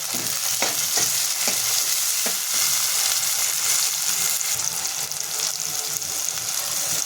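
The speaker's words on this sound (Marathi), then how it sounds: "कांद्याला छान सोनेरी रंग आलेला आहे त्याच्यामध्ये मी टोमॅटो टाकून ते पण छान शिजवून घेते" Tomatoes cooking with golden fried onions in a pan give a loud, continuous close-up sizzle, with a few sharp stirring clicks near the start and no voices.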